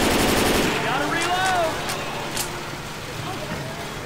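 Rapid automatic gunfire rattles in a Left 4 Dead 2 match, a loud burst dominating the opening second before thinning into scattered shots and game noise, with players' voices talking over it.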